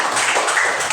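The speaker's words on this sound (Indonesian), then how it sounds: "Memasak, ya, tepuk tangan." A classroom of children claps their hands together in a short, dense burst of applause lasting about a second, close and fairly loud.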